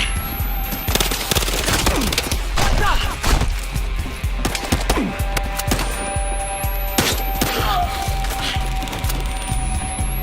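Rapid gunfire in the shooter game Battlefield Hardline, dense bursts of shots and cracking impacts over a constant background din, with a few raised voices mixed in.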